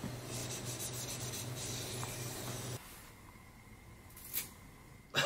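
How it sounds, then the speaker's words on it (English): Rosin rubbed onto cello bow hair: a steady, close scraping rub that runs for under three seconds, then drops to a quieter hiss with a brief scrape and a louder burst at the end. "You might see us putting on rosin, which is made from tree sap."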